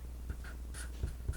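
Pen or marker scratching briefly on a chart, a few quick soft strokes close by over a low background hum, with no talking.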